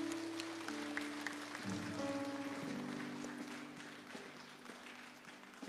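Clapping from a church congregation is heard as a soft, continuous patter of many hands, with sustained music tones underneath, fairly faint throughout.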